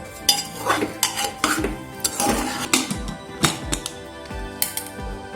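A spoon stirs a soybean and red lentil mixture in a metal cooking pot, giving close, uneven scrapes and sharp clanks against the metal that repeat in an irregular rhythm.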